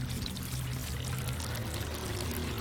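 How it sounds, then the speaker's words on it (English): Water from a pitcher poured steadily over a model mountain built of sand, soil, pebbles and mud, a continuous close splashing pour with no talk. "Now, slowly pour a pitcher of water over the top."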